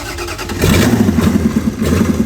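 A freshly installed engine sitting in a 1986 Ford F350 crew cab parts truck cranks and catches, then settles into a loud, close, throbbing idle with rhythmic pulses.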